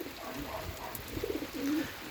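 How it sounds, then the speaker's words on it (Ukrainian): Pigeons cooing softly in the rain at a dovecote, a couple of low murmuring coos rising out of a steady wet patter, fairly close, with no voices. "Ось так, голуби під дощем"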